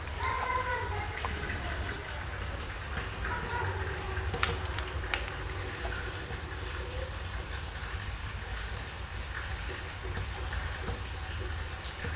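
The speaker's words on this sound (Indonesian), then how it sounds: "Kita nyalakan coba, airnya keluar" Water running from a repaired bathroom sink faucet, a steady splashing stream with faint clinks and handling sounds, heard at moderate distance.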